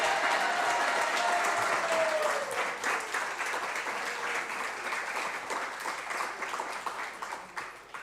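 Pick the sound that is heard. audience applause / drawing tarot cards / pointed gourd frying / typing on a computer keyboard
audience applause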